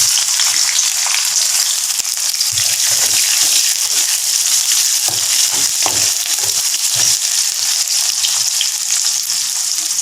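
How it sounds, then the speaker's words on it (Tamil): Onions drop into hot oil with fried urad dal while Agathi Keerai Sothi is cooked, giving a steady, loud sizzle and frying hiss throughout, with occasional stirring knocks underneath. "இப்போ வெங்காயத்தை போடுவோம்."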